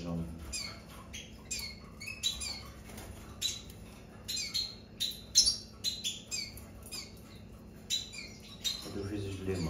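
Venezuelan siskins give quick, thin chirps and squawky calls in short bursts, repeated irregularly at moderate closeness, with faint voices in the background.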